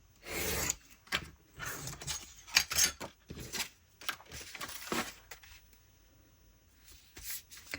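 Scissors cut through a paper file folder nearby, producing a series of irregular crisp snips and rustles of paper over several seconds, with no talking.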